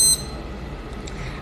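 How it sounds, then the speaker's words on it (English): A red light therapy mask's timer gives a short, bright electronic beep at the start, then goes quiet, leaving only faint room background. "you can hear the timer going off"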